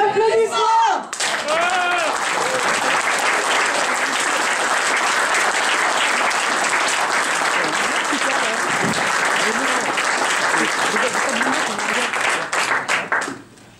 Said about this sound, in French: les filles, ça mérite un applaudissement